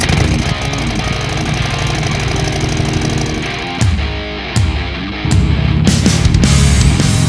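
A Harley-Davidson Iron 883 motorcycle engine pulses loudly and steadily while riding, with brief dips and surges as the throttle eases and picks up again, and no talking.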